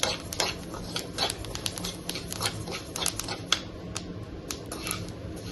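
Flax seeds roast in a pan, crackling and popping in rapid, irregular bursts of sharp little snaps that carry on throughout.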